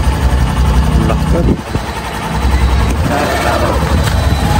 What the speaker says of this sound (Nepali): यो super Splendor हिरोको super Splendor bike हो